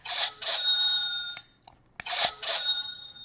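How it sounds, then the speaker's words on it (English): The US stock market opening bell rings in two pairs of loud, bright metallic bursts separated by a short pause with faint clicks, heard alone without speech. "Market bell."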